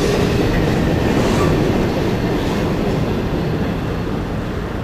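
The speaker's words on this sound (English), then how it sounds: "empty coal train at Keystone." An empty Norfolk Southern coal train rolls past at Keystone, a loud, continuous rumble of wagons and wheels close by, with faint clickety-clack and no voices.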